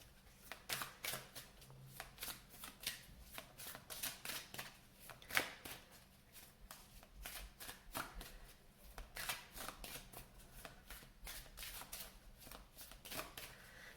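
Cards shuffled in quick repeated bursts, a crisp riffling rustle that keeps going close to the mic, with short pauses between shuffles; oracle activation deck in a quiet room with no talking.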